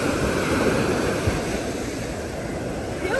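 Ocean waves washing onto a beach in Kerala at sunset, a steady broadband roar of surf with wind noise, continuous and fairly close, no talk.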